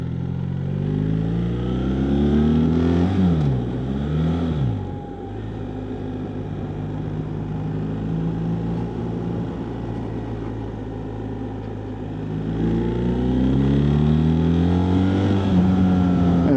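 A BMW R1300GS motorcycle engine rumbles up close, with rising and falling revs as it accelerates, then settles into a steady drone before climbing in pitch again toward the end.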